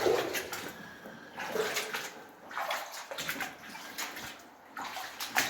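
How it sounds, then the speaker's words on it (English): Water flowing and splashing inside a cave near an old gold mine, a close, continuous rushing slosh that swells and eases in uneven pulses, with no voices. "I can hear the water increasing further down, whether that means there's a waterfall ahead or just some kind of rapids."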